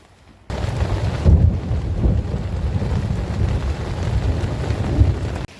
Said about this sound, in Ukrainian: І знову дощ. Починається дощ, гроза, блимає, гримить.